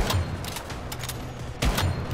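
Gunfire in the online shooter Once Human, with sharp rapid shots in short bursts and a heavier blast near the end, loud and close with no speech.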